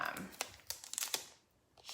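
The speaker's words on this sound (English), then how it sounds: "I just trimmed away the edge piece of the envelope topper that's right here." Paper being trimmed from the edge of an envelope topper for a holiday bookmark craft: a close, faint series of crinkles and snipping rustles, irregular and sparse, fading near the end.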